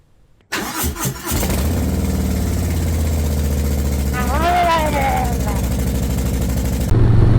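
A motorcycle engine on a Magna build starts with a few sputters, then settles into a steady, loud idle close by, with a brief rising tone midway and a louder shift at the end as the bike rides off.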